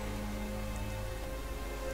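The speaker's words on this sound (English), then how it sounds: "Why is it raining all of a sudden?" Steady rain pattering across the ground in Genshin Impact, a dense, even hiss of falling drops that fills the whole stretch without a break.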